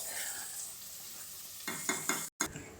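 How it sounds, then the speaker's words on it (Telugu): Chicken fry sizzles on a medium flame, a quiet steady frying hiss with a few stirring scrapes near the end, interrupted by a brief cut to silence. "మీడియం ఫ్లేమ్లో పెట్టుకొని ఫ్రై చేసుకుందాం."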